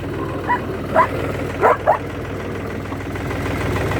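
Several short dog barks and yelps in quick succession over a steady tractor engine rumble, a brief scuffle between dogs nearby in a vineyard.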